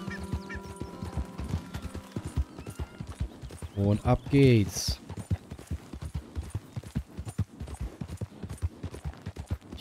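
Horse hooves clip-clop in a steady rhythm throughout the video game Red Dead Redemption 2, with a brief snort or whinny midway and someone speaking briefly.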